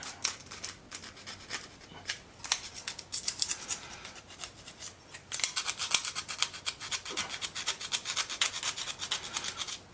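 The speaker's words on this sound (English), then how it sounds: "So I like to use just a little bit of sandpaper. Get it nice and clean all the way around there." Sandpaper scrubbing bare antenna wire clean during an end-fed half-wave antenna build, a run of quick, close, raspy strokes that grow denser and louder in the second half, with no talking.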